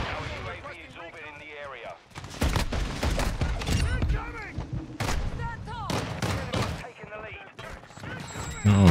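Pistol gunfire in the video game Modern Warfare 2, with repeated sharp shots in quick clusters and bursts, mixed with game sound effects and occasional voices.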